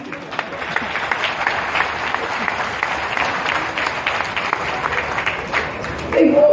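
Audience at a Delhi government event for a DTC bus launch clapping steadily for several seconds, a dense even patter that swells louder at the very end.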